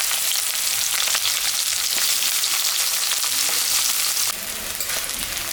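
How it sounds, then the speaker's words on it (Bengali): Onions frying in oil in a pan with cumin tempering, after fish was fried in the same oil, for a potato and eggplant curry; a steady loud sizzle runs throughout with light stirring scrapes, no voices. "পেঁয়াজটা ভাজা ভাজা হয়ে গেছে"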